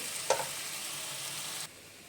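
Masala for a capsicum and onion sabzi sizzles steadily in a pan over low heat, with a brief spoon clink near the start; the frying hiss continues, then drops off abruptly.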